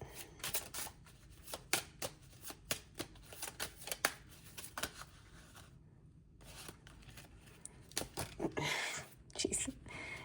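Tarot cards being shuffled by hand, with repeated quick riffling and flicking bursts close by, brief pauses between them, and soft whispery sounds mixed in.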